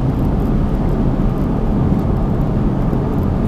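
Steady low road and engine drone inside a 2012 Smart Fortwo coupe Passion mhd cruising at 70 mph, just over 3,000 rpm, continuous and even throughout with no voices.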